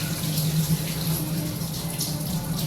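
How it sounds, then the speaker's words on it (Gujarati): Overnight soaking water poured off lentils for dal makhani, a steady, continuous splashing stream close by with no pause. "હવે આપણે હે ને આ પાણી કાઢી દેવાનું."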